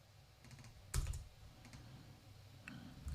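A few quiet keystrokes on a computer keyboard, with a sharper cluster of clicks near the start and a lone tap later, fairly faint against a low room hum.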